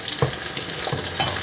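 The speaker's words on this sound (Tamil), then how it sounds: "இப்படி கொஞ்சமாக எண்ணெய் விட்டு கூட நீங்கள் நல்லா பிரட்டி பொரிக்கலாம்." Fish fries in a small amount of sesame oil on a flat dosa pan, giving a steady close sizzle with a few brief louder spits and stirring bursts, with no talking.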